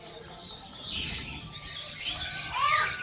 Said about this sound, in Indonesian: seperti puter, merpati hias, ada labet, dan ada parkit ada juga.